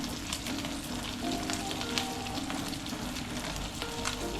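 Food toasting in a hot pan gives a steady, close sizzle and crackle of frying oil with scattered small pops, continuous throughout with no talking.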